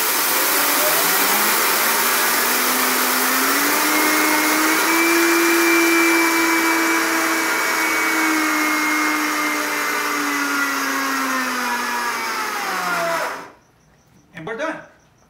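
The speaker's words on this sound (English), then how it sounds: "And we go to the blender, and we just do it in manual." A powerful Blendtec blender whirs loudly and steadily, its motor pitch wavering as it grinds milk thistle into powder on manual mode, then cuts off abruptly followed by a brief clatter.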